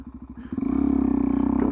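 A Suzuki DRZ400SM supermoto motorcycle revs up from a lumpy, pulsing idle into a steady, loud single-cylinder engine drone, heard close with no talking.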